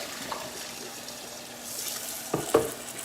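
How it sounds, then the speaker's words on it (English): Cold tap water runs into a pot of boiled eggs in a kitchen sink, a steady hiss with a couple of splashing clinks near the end, close and without talking. "when you put cold water in over these eggs, it stops the cooking"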